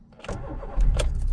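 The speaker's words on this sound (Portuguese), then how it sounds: "Eita, que delícia ligar esse motor de novo, hein?" A Volkswagen Fox engine cranks and fires, catching at close range with a sudden loud surge into a steady, rumbling idle.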